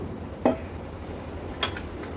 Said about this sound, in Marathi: कुप्याचं कालवण बनवण्यासाठी गॅसवर आपण हे पातेलं ठेवलं आहे